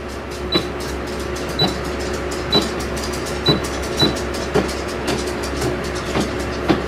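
A Brother PE 770 embroidery machine moving forward through its stitches gives off a steady mechanical hum with regular clicking pulses, about one per second, close and continuous.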